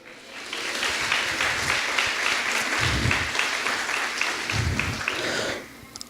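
A church congregation breaks into sustained, dense applause that holds steady for several seconds before stopping abruptly, with a few low vocal bursts mixed in.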